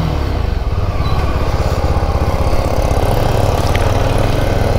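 A stickered motorcycle engine runs steadily up close with a loud, continuous throbbing rumble that stays even throughout, with no voices over it.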